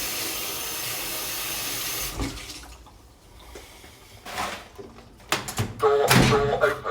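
A microwave door opening in a kitchen, a sharp mechanical latch click and clunk after a stretch of running water and room noise, followed by louder clattering, with a voice nearby.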